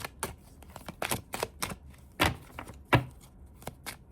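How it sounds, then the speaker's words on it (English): Tarot cards are picked up and handled close by, making a series of sharp papery taps and flicks in irregular bursts. A few louder slaps stand out, with quiet gaps between them. "Picking up cards."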